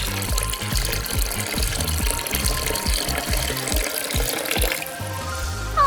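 Water pours into a mini DIY toy pool, a close, steady gushing and splashing stream with small bubbling pulses, shifting near the end, no talking.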